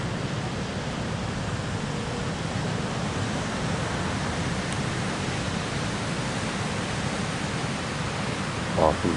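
Steady broadband wash of ocean waves on a beach at night, continuous and fairly loud, with a brief higher sound near the end.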